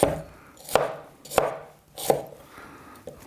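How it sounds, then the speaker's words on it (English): A knife chops chicken strips into chunks on a board, four firm, evenly spaced thuds close up, the last one lighter, with no talking. "Nice big strips. Into chunks. Cut through there."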